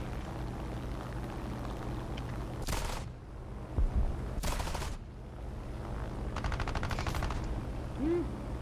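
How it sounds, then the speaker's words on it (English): Short bursts of gunfire in a combat video game with bombers, three separate rattling volleys over a constant low engine drone. "Why is he shooting that direction?"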